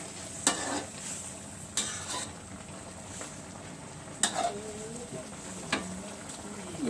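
Squid fries with soy sauce in a pan, a soft steady sizzle with occasional clanks and scrapes of a utensil stirring, close up and quiet.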